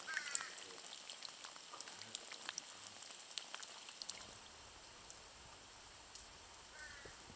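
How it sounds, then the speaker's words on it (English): Soft, uneven dripping and trickling of rainwater running off a roof, scattered drops tapping close by over a faint background hiss, with a few distant bird calls. "This is just a few minutes of rainwater."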